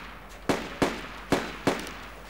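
Grenade blasts in the Project Reality military shooter, four sharp loud bangs at roughly even intervals about a third of a second apart, each decaying quickly over a low background rumble.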